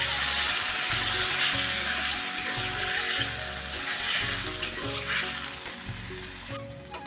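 Potato and pointed gourd fry in a hot pan as water goes in, giving a steady, fairly loud hiss and sizzle with bubbling that eases slightly toward the end.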